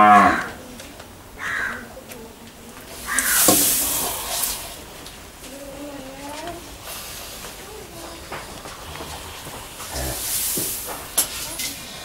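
Cows low a few times in a village cowshed, with short moos standing out against a dull background of rustling and shuffling, and a brief hiss partway through.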